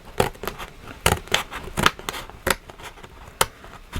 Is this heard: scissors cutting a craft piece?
yes